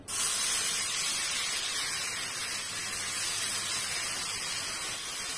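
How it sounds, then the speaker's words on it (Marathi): Moong batter for a munglet sizzles as it goes onto a hot pan, giving a steady bright hiss that lasts throughout at moderate volume. "सो पॅन आता गरम झालेला आहे आणि आता आपण त्याच्यावर बॅटर घालून घेऊया."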